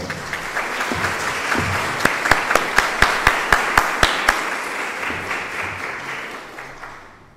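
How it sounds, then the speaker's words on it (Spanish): Applause from a lecture audience after an education research talk, a dense crowd clapping with a run of sharp, loud individual claps in the middle that thin out and fade away toward the end. "Un aplauso, por favor, para la doctora."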